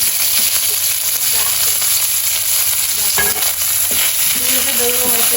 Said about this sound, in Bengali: চিকেনটা দিয়ে দেবো।